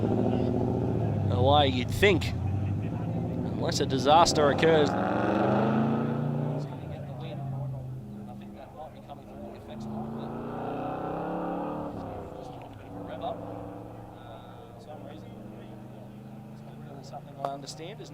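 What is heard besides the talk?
car driving away from a cricket ground car park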